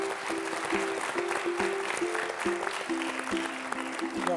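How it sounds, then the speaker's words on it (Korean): Applause from an audience, a moderate steady clatter of hands with some tonal background hum underneath. "최문순 화천 군수님을 박수로 맞아서 이야기를 좀 듣겠습니다."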